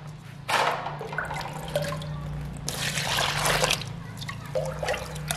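Plain water poured into flour for papad dough makes a steady trickling, splashing pour that starts abruptly and swells midway before easing off, with no voices.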